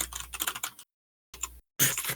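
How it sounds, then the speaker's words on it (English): Rapid clacking keystrokes on a computer keyboard come in three short bursts broken by dead silence, close and fairly loud. "It's your typing. I just hear typing."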